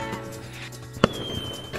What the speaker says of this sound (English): Oh, fireworks. Fireworks.